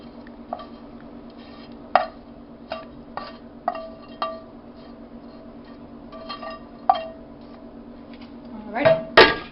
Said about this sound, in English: So now we're going to take our shrimp over here and start scooping it in.